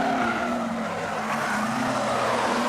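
Production sedans racing in the IBRP Series A-Main at Maryborough Speedway, a steady loud engine roar with tire noise that holds throughout without a break.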